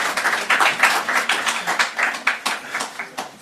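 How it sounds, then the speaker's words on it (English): Applause from an audience at a Davos convening event for the Vice President, heard as a loose patter of distinct handclaps in an uneven rhythm, fairly close. "Shall we give another round of applause to the Vice President"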